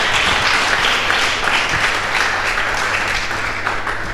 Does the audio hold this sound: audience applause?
yes